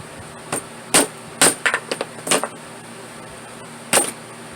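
Sharp, scattered knocks of a hammer striking a hole punch through leather for a handmade wallet, a few single blows and a quick cluster, ringing over a steady background hiss.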